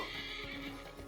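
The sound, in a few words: horse neighing in video game Assassin's Creed Mirage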